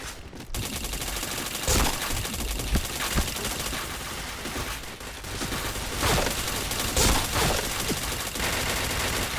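Gunfire in the game Point Blank, rapid automatic bursts and scattered sharp shots over a dense, noisy game soundscape, moderately loud with several stronger volleys.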